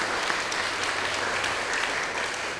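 An audience at a high school curriculum expo opening ceremony applauds three museum staff members, with steady, continuous applause that forms a dense, even wash of clapping and no voices on top.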